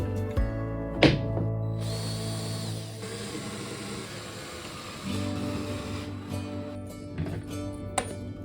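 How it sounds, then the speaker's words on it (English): A power drill bores holes through a floor to fasten it to a wooden frame, whining in sustained bursts with knocks and taps between them, close by. "I drill holes in the floor and tighten it to the wooden frame"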